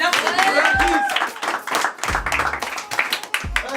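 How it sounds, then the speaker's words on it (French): A few people clap during casual conversation on a reality show, with scattered claps mixed into ongoing voices and laughter. "on peut l'applaudir bien fort"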